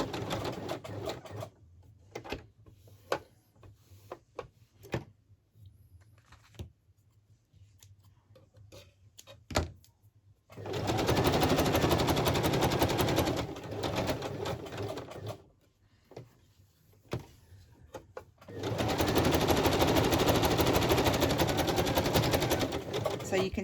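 A sewing machine stitches a fabric journal page in two long, loud bursts of rapid mechanical whirring. Quieter stretches between them hold scattered clicks and handling noise.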